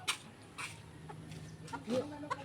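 Chickens clucking in short bursts nearby, with a few sharper calls, over a steady low background hum.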